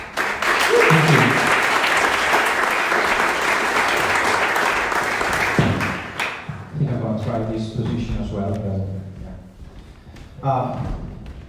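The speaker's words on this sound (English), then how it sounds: "a big applause to him" Audience at a Speck&Tech tech meetup applauds a speaker, with loud, steady clapping for about six seconds that fades and gives way to someone talking.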